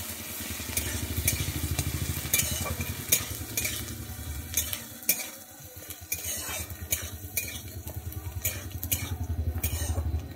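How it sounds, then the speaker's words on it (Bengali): Onions fry in a pan with a steady low sizzle, while a spatula stirs and scrapes against the metal in quick repeated strokes, close up and fairly quiet, with no talking. "পেঁয়াজটা দিয়ে আমি কিন্তু এখানে একটু ভালো করে ভেজে নিচ্ছি।"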